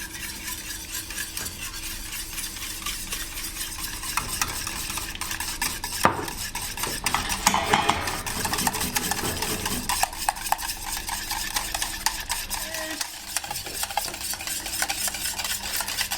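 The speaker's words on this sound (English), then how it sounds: "We're going to tip in the egg mixture and whisk it vigorously." A whisk beats egg mixture vigorously into lemon curd in a saucepan, a fast rhythmic metallic scraping and sloshing that runs for the whole stretch, near and fairly loud, with brief louder clanks partway through.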